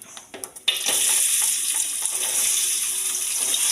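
Chopped onions drop into a hot pan for chicken curry and start sizzling, a loud continuous hiss following a few brief clatters.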